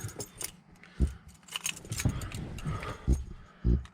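Keys jangle and clink repeatedly in short metallic bursts, close up, with a few dull thumps mixed in.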